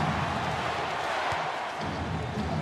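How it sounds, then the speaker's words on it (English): A basketball video game crowd in NBA Live roars in a steady, broad wash of cheering noise throughout, with no break and no clear voices over it. "the game had nice crowd reactions, nice crowd noise"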